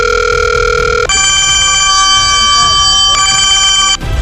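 A telephone rings with steady electronic tones, first a single repeated pitch and then a brighter multi-tone ringing pattern, loud and close, during a call to a school teacher.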